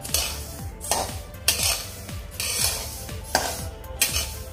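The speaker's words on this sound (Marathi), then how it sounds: "आपले हे तीळ आता भाजत आले आहेत" Sesame seeds dry-roasting in a pan while being stirred, repeated scraping sweeps of a spatula against metal in an uneven rhythm, close and fairly loud, with a light rustle of seeds between strokes.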